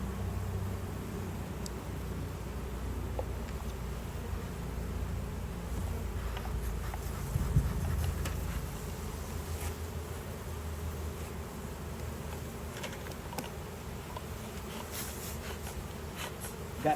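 Honeybees drone steadily and continuously during a hive inspection, a dense, even buzz with a low rumble underneath that holds throughout without clear breaks.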